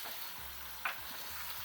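Chicken, masala and peppers frying in a pan for a chicken jalfrezi, a steady soft sizzle with faint stirring scrapes and one brief clink, fairly quiet and with no talking.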